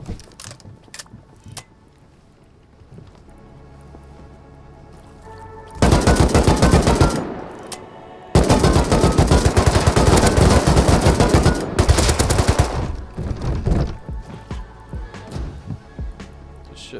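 Automatic gunfire in the survival game Rust, two sustained loud bursts of rapid shots in a vanilla server fight, with a brief gap between them and scattered single shots before, under light talk.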